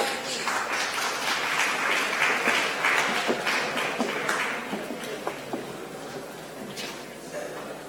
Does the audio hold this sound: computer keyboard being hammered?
no